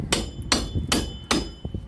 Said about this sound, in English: hammer on that